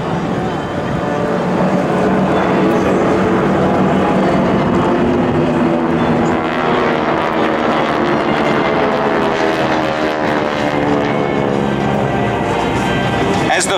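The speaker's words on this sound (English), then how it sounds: "The Skytype flight of four will roll in for a very high angle strafe." A flight of four GEICO Skytypers aircraft dives in a steep strafing run at an air show, producing a loud, sustained engine roar with shifting tonal drones that swell and hold throughout.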